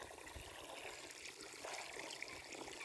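Water trickles and dribbles onto absorbent garden soil while a plant is watered, a steady, faint wet patter that stays close and continuous with no talking.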